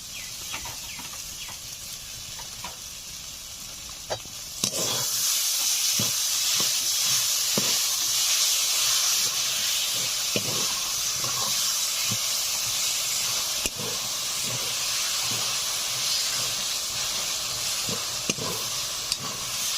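Hog plums (amra) fry in a pan for a pickle, giving a steady, close sizzling hiss that grows louder partway through, with occasional sharp clicks and taps of the pan and spoon.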